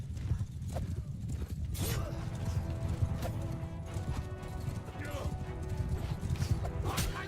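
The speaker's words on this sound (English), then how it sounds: "that's our horse there" Hooves clip-clop steadily as horses move in the Mount and Blade Warsails video game, with occasional neighs and whinnies, a few sharp clattering hits, and a busy background bed of sound.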